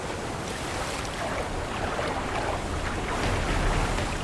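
Rushing water of a monsoon-swollen river running high through treacherous rapids, a steady broad roar with wind buffeting the microphone, loud and continuous without a break.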